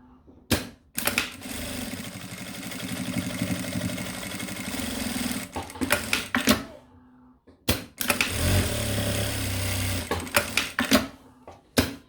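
A sewing machine stitches reinforcing seams on a mini backpack, running in loud rapid whirring bursts of several seconds separated by short pauses and a few clicks.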